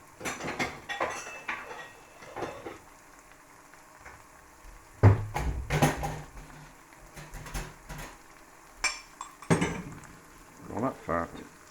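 Fat being scooped from a frying pan into a container while making a fried cheese burrito, with clinks and scrapes of a utensil against pans and dishes in a few loud bursts between quieter stretches, close by.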